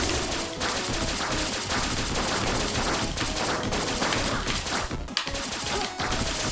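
Dense, steady gunfire from the 20XX video game aimed at a boss, loud and unbroken, with crashes and bursts mixed into the barrage and no talking.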